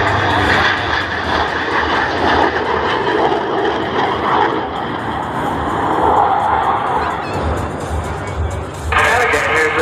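A Yak 110 jet aerobatic aircraft roars loudly and steadily through a display at the Pacific Airshow, Surfers Paradise, its engine noise never letting up while someone talks over it.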